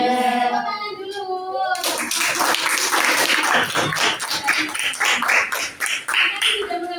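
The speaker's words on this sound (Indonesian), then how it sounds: "Tepuk tangan dulu." A classroom of students claps hands together in a brisk, lively burst after a teacher speaks, many hands close by, with children's voices mixed in.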